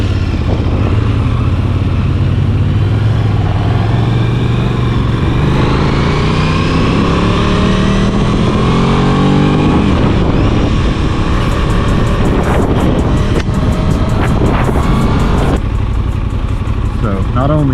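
A brand new 2024 Aprilia RS660 Extrema on new tires rides through Charlotte afternoon traffic, its engine droning loud and close with rising and falling revs as it shifts, while wind buffets and a voice talks over it.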